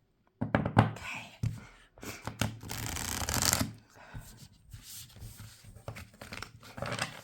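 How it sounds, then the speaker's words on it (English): Tarot and oracle cards being shuffled by hand, giving irregular riffling, flicking and sliding bursts with short pauses, close and fairly quiet, with no voice. "So in the tarot cards first. And afterwards, I will pull another Oracle card."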